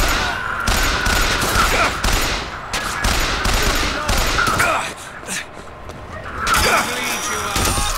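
Rapid gunfire bursts in the video game Bioshock Infinite crackle loudly in repeated volleys over several seconds, mixed with game effects and a brief lull before firing resumes.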